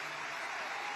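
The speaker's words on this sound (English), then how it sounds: "Let's give them a really special hand." Brief burst of dense clapping from an assembled crowd of US troops in Qatar, honoring Qatar Army and Armed Forces partners; steady, loud and continuous throughout.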